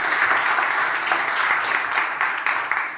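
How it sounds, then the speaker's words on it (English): A crowd at a startup accelerator dealflow party gives a loud, dense round of applause, continuous clapping throughout without pause. "Give a big hand of applause to the XVentum."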